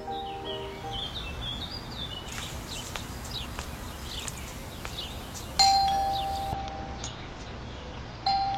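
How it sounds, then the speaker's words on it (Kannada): A home doorbell rings, its bright chime tones sounding at the start and again more loudly partway through, with faint bird chirps in the background between rings. "ರಾಂಗ್ ಡೋರಿಗೆ ಬಂದು ಬೆಲ್ ಮಾಡಿದೆ ಅನ್ಸುತ್ತೆ"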